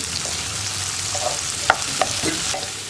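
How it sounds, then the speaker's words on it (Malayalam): Onion sautés in a pan with salt, turmeric and curry leaves, a steady close sizzle broken by a few scraping stirs and light utensil knocks against the pan. "2 തണ്ട് കറിവേപ്പില, ഇത്രയും ചേർത്തിട്ട് നന്നായിട്ടൊന്ന് വഴറ്റിയെടുക്കുക"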